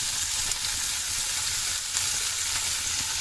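Chicken fries with onions in a pan, giving off a loud, dense, continuous sizzle that stays steady throughout with only slight stirring movement. No voices are heard.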